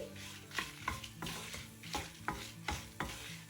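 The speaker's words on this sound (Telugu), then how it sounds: "ఎండుమిరపకాయలను కూడా బాగా వేగనివ్వండి. మీడియం ఫ్లేమ్లో పెట్టుకుని వేయించుకుంటే మనకి ఇవి చక్కగా మాడకుండా వేగుతాయి." Dried red chillies fry over a medium flame in a pan for a toor dal chutney, a soft continuous sizzle with several scraping stir strokes at a loose rhythm, close and fairly quiet, with no talking.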